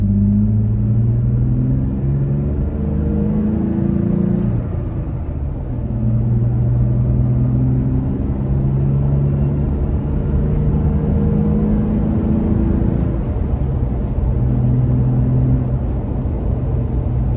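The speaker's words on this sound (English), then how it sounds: "Now, starting off in second gear, I'm gonna run through the gears, accelerate a bit," A Toyota Tacoma pickup pulls away in second gear and accelerates up through the gears, its engine a steady close-up drone inside the cab, with pitch stepping up and dropping back at each shift.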